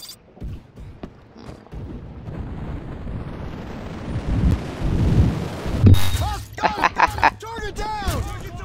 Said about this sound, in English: Boom! I got like 5 of them with a missile.